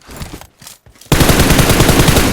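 Sustained automatic fire from an M4 rifle in PUBG Mobile erupts after a few faint, sparse taps, becoming a loud, dense, continuous burst that holds steady to the end.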